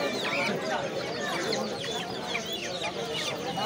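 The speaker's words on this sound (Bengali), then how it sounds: "এখানে রয়েছে টাইগার মুরগির বাচ্চা।" Tiger chicken chicks peep and cluck at a crowded poultry and bird market in Fatullah, Narayanganj, a dense, continuous chorus of high chirps close by.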